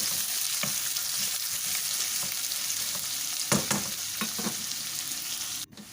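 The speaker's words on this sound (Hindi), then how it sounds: "जस्ट 1 से 2 मिनट के लिए इसको प्याज में फ्राई करना है ऑयल के अंदर हमने प्याज को" Chopped onions fry in hot oil for a mutton stew, a steady close sizzle with faint stirring scrapes and a sharp clatter near the end; no voices.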